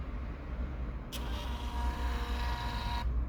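A Goojprt PT-210 portable thermal printer runs for about two seconds, a thin whirring buzz of the feed motor that starts and stops sharply over a low background hum.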